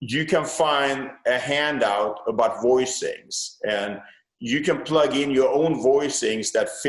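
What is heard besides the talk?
No distinct noise like a dog, phone or traffic.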